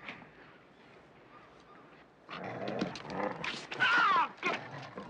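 A dog growls low and quietly at first, then breaks into loud, close, rough barking and snarling bursts in a tense confrontation.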